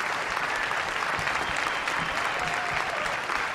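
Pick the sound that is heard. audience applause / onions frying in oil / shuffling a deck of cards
audience applause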